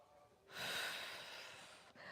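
Heavy, sustained breathing from a person doing oblique reach exercises in a core workout, a broad breathy rush lasting about a second and a half that ends abruptly, close to the mic with no talk.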